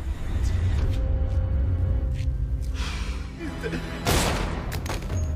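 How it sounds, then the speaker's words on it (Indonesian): Gunfire in an action film scene rings out as a few sharp bursts over a rumbling, music-backed soundtrack, with a loud crack near the end, partly under narration. "Tanpa basa-basi, Testament pun langsung menembak mati anak buahnya tersebut."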